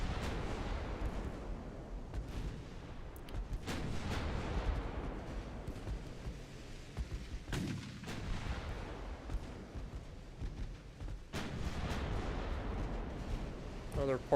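Battleship main guns firing high-explosive shells in a naval strategy game, heavy booming reports and rumbling blasts recurring irregularly over a dense, continuous low roar of battle.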